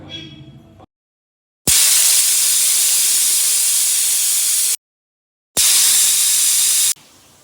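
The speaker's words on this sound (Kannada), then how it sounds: "7 ವಿಸಿಲ್ ಕಂಪ್ಲೀಟ್ ಆಯಿತು, ಆಫ್ ಮಾಡ್ಕೊಳ್ಳಿ" Loud, sustained hissing whistle of a pressure cooker venting steam, in two long blasts separated by brief silence.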